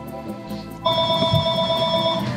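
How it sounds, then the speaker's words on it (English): A phone ringing nearby with a steady electronic tone that sounds alone, clear and fairly loud, over a faint room background. "Gonna have to wait for my phone to stop."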